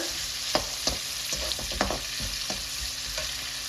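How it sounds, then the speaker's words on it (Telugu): Small onions fry in oil with a constant sizzle, broken by intermittent spatula scrapes and taps against the pan, heard up close without any talking. "చిన్న ఆనియన్స్ సేమ్ నూనెలో వేయించుకుంటున్నాను."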